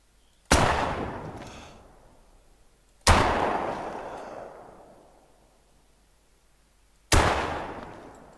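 Three shotgun blasts in the hunting game theHunter: Call of the Wild, each a sharp loud crack that rolls into a long fading echo, spaced a few seconds apart with no talk.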